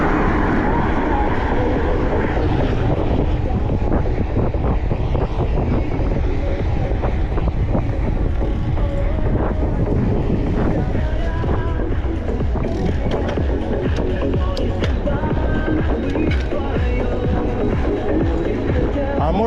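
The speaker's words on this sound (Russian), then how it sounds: "А здесь ветер." Wind blows into a microphone outdoors in Crimea, giving a loud, continuous, buffeting low roar with gusty fluctuations and faint scattered clicks throughout.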